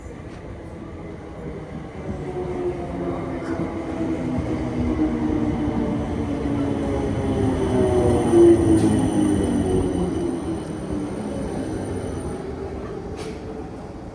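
A Class 455 electric train pulls into Epsom station, its rumble swelling as it nears the platform and then easing, with faint wheel squeal and metallic rail noise and no voices.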